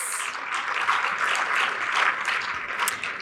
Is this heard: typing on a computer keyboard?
no